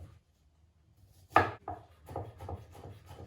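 Garlic being crushed in a garlic press at home, a sharp crunch followed by several softer squeezing and crackling bursts, close and fairly quiet, no voices.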